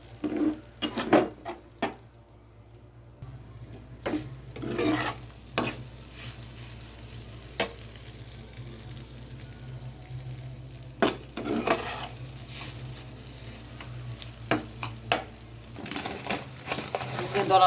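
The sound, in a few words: stirring soaked sago pearls in ghee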